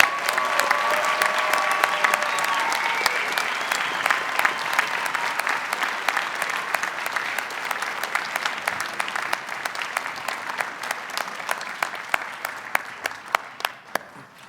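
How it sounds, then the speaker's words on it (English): An audience applauds loudly at a university winter commencement ceremony, a dense, sustained ovation that gradually thins into fewer distinct claps toward the end, with some voices under it. "let's give them another big round of applause."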